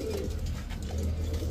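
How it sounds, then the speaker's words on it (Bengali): Pakistani teddy pigeons, four females, coo in a low, continuous murmur with overlapping soft calls under steady background noise. "পাকিস্তানি কবুতর, চারটা মাদি কবুতর।"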